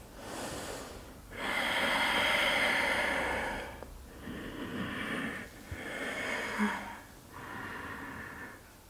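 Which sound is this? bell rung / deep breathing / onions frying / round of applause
deep breathing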